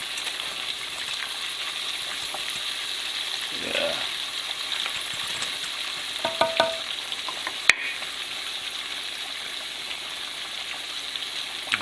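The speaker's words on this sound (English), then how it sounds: "right, we're gonna let that fry." Buttermilk marinated chicken frying in grease heated to 375 degrees, a steady crackling sizzle with scattered pops and a faint metallic clink, while a voice briefly speaks.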